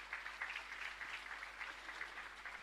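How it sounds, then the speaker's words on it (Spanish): A church congregation at a parish Mass claps in a dense, even patter that sounds faint and somewhat distant and carries on steadily throughout. "Un fuerte y caluroso aplauso."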